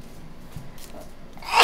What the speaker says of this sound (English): I've got a sneeze coming on